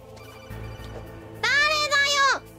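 Telephone ring in a video game, a bright electronic ringtone bursting in loud and sustained for about a second after a stretch of quieter game sound and voice.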